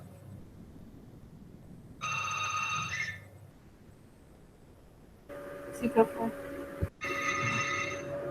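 A telephone rings during an online mechanics class, sounding in two faint bursts of repeated electronic trills with a pause between, while a voice briefly answers in the background.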